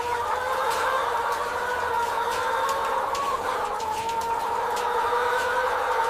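Adult white hens clucking and calling steadily inside a large laying house on a poultry farm, a dense, continuous flock chatter with occasional sharper calls over mechanical hum.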